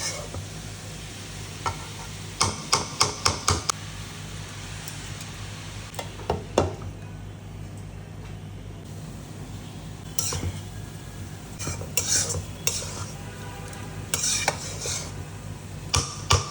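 Cabbage and potato curry stirred in a pan with a metal spoon, bursts of quick scraping clinks and clatters recurring in uneven clusters over a low steady sizzle, close and moderately loud.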